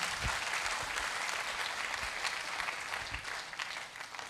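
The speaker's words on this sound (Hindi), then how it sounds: "हम चाहेंगे इनके लिए भी एक जोरदार ताली हो जाए।" Crowd at a motivational speech event giving a hearty round of applause, continuous dense clapping with a few sharper, closer claps standing out, moderately loud throughout.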